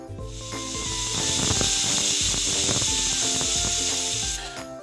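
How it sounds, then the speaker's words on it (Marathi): A pressure cooker cooking tomatoes for tomato soup lets out a loud, steady steam whistle and hiss that runs for several seconds, then cuts off near the end. "आपण हे छान असं 3 शिट्ट्या काढून घेणार आहोत याच्या"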